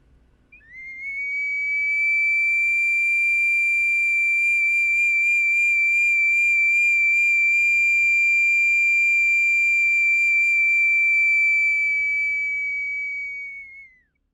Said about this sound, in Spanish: el sonido de la vasija silbadora se asemeja mucho al sonido de los pájaros